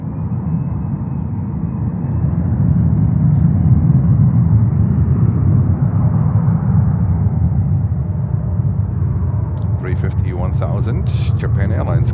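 A jet airliner taking off at JFK airport in New York, a broad sustained roar that swells and stays strong throughout, heard from a distance, with a voice talking over it toward the end.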